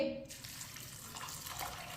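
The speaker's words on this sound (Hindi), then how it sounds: "अब इसमें पानी डाल लेंगे।" Water pours steadily from a glass onto washed, soaked white chickpeas in a pot, a close, continuous splashing rush that follows a brief clink at the start.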